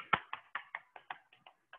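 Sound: patting legs with hands during seated exercise

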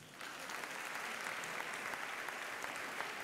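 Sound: audience applause for a magician's rabbit trick

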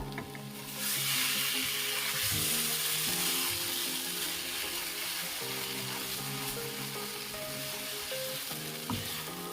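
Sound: sautéing spices in an uncovered pan

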